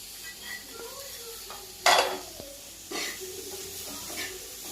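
Onion tipped into a pan of roasted peanuts for a bombil and brinjal sabji, with a sharp clatter of utensil on pan, then a steady soft sizzle and scraping stirs.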